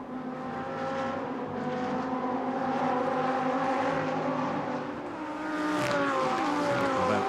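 Lamborghini Super Trofeo race cars roar past at Monza on the approach to the Variante Ascari, a loud sustained engine note with shifting pitch and downshifts, rising again near the end, with no talk.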